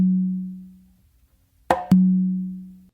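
A sustained ringing open tone on a conga, then a dry, sharp close slap followed quickly by a booming open tone on the tumba, close and clear with no talking.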